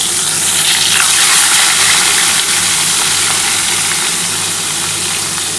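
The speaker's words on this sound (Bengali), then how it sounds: "একটু হালকা করে ভেজে নিচ্ছি" Hilsa fish pieces fry lightly in a pan for Bengali ilish macher jhal, giving a loud, continuous hiss and sizzle of hot oil that stays even throughout, with no talk.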